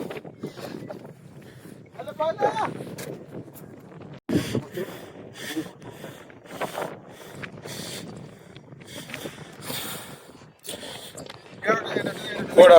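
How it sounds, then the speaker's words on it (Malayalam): Strong wind buffets the microphone on an exposed hill fort high among the clouds, coming in uneven gusty rumbling bursts while people talk over it. "പക്ക കാറ്റ്."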